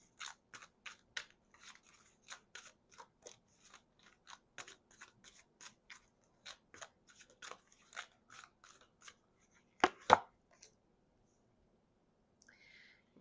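Tarot cards are shuffled by hand in a steady run of soft, crisp clicks and snaps, close up, ending with a couple of louder slaps.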